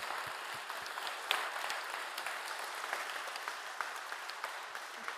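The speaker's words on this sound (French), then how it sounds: "Alors, on t'applaudit d'abord." Steady applause from the audience at the closing session of a botany conference, moderately distant and continuous throughout, with no talking.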